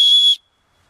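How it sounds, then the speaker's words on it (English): A shrill, steady blast from the emergency whistle built into a Maxpedition Kodiak Gearslinger pack, loud and close, lasting under half a second before cutting off to silence. "It's nice to have a little built-in emergency whistle with you at all times."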